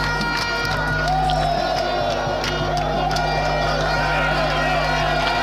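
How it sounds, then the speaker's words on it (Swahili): Football fans cheer and shout throughout a stadium, a loud, continuous crowd roar with scattered whoops, and a voice talks over the noise. "kelele za mashabiki kama unavyosikia hizo shangwe za hapa na pale"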